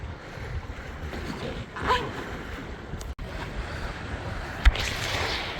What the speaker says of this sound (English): So the wind picked up to 25.